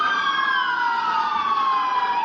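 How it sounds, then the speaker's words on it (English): Police car sirens wail steadily, a loud, continuous wailing tone that slides slowly downward in pitch and carries on without a break. "about 4, 5, 6, 7 police cars is right there right now"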